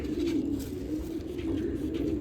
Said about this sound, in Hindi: सारा पंजाब का कबूतर है भाई